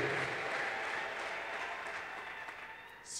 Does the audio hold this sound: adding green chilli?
no